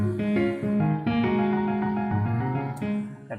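A short keyboard passage of sustained chords shifts with an early, syncopated chord change that lands ahead of the beat, played cleanly without any voices.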